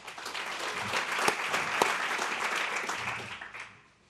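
A crowd claps steadily in sustained applause for several seconds, full and fairly close, before it tapers off at the end.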